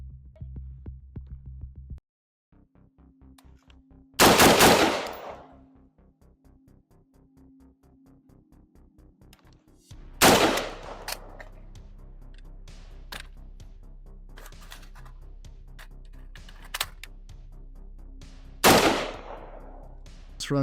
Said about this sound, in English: doing a little bit of shooting and reloads from the chest rig portion of the